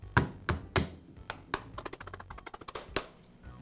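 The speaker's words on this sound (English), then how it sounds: "I'll use a rubber mallet to make sure that it seats." Rubber mallet tapping a DeWALT impact driver mechanism into its gearbox nose cone: a series of sharp, close knocks, a few strong blows followed by quicker lighter taps in an uneven rhythm.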